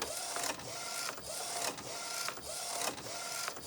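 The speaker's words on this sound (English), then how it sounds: "Image coming out of the printer." A DTF printer runs steadily while printing an image, its print head sweeping back and forth in a regular mechanical rhythm with clear pauses between passes, close and fairly loud with no one speaking.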